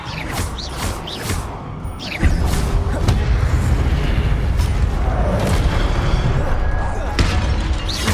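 Spell effects from the video game Hogwarts Legacy: a dense run of magical bursts, crackles and booming impacts with a shattering edge, loud and continuous over a low rumble, with a sharp jump in intensity partway through.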